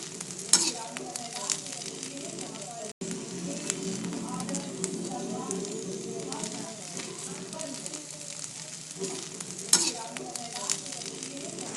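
Onions sizzle and fry in a pan for a stuffed bitter gourd dish, a steady close crackling hiss broken by occasional scraping stirs and small pops.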